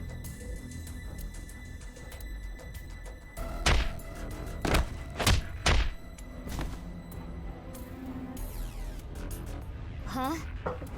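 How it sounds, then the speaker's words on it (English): A punch lands in AI: The Somnium Files - nirvanA Initiative as a cluster of heavy thuds and whacks, about four sharp hits in quick succession, set over steady game music and ambience. "Why did you punch him out of nowhere like that?"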